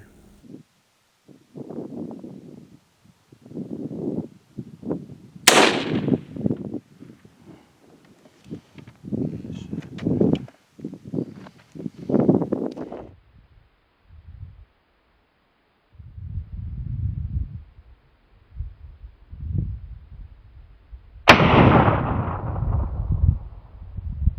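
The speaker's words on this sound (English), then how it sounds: "Shooting at a distance of 300 yards, it's either a 22-250 or a 204 Ruger." Two sharp rifle shots from a .22-250 or .204 Ruger fired at 300 yards ring out several seconds apart, separated by gusty wind and rustling outdoors.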